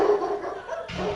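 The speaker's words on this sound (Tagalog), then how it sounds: "Maliban sa tahol ng mga aso" A dog barks briefly nearby, a short yelping bark standing out over a faint background.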